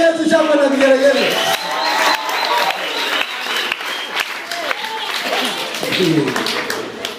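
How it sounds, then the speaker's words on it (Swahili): Church congregation cheering and clapping with joyful shouts and ululation-like calls mixed with voices, lively and crowded throughout. "Piga Yesu shangwe na vigelegele."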